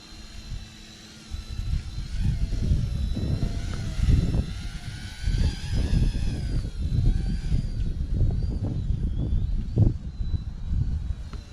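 Small Eachine E110 RC helicopter flying outdoors on a windy day, its thin high motor whine rising and wavering over continuous gusty rumble of wind buffeting the microphone, with no talking.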